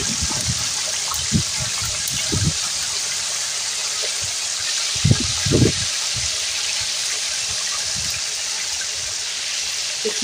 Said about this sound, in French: Je prends le manioc que j'ai coupé à carré, je le jette dans le huile de palme.